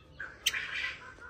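A single harsh, loud bird squawk, brief and close, with a sharp piercing onset.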